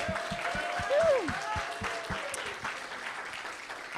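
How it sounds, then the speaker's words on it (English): Audience applause for a student planning committee at the Collider Cup event, clapping heard moderately under a prominent voice speaking over it. "please stand up so we can give you a round of applause"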